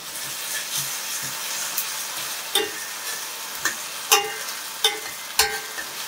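Onion frying in a pan, a steady bright sizzle with sharp intermittent clicks and spatula taps every half second or so, close and clear with no speech.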